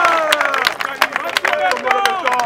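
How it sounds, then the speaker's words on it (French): An audience at a UDPS cell presidents' meeting in Kinshasa claps for the president of the Republic: scattered, brisk applause mixed with cheering voices throughout, moderately loud and close. "Applaudissez pour le président de la République."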